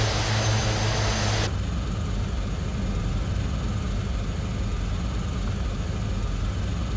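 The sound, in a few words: Twin Otter propeller plane engine in Flight Simulator 2020 video game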